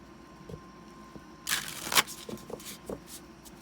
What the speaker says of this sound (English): I'm going to go ahead and shuffle this deck real quick